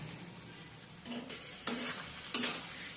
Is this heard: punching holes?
no